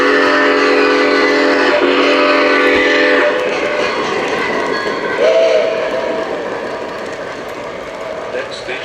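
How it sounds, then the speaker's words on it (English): A train passes by with a sustained horn or whistle blast at first, then a rolling rumble of wheels on track, loud and close. An announcer's voice carries over it. "South via the Chief Wawata Double Express,"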